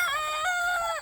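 Olive egg pullets in a chicken tractor on a homestead give close, tonal calls that rise and fall in one continuous stretch, with no talking.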